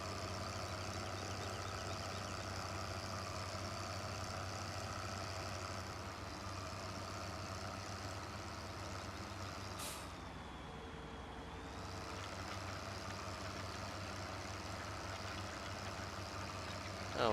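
An articulated tractor in Farm Sim 15 idles with a steady, low engine drone and a faint whining tone, holding constant for the whole stretch before a brief hiss and a small shift in pitch near the middle, with no voices.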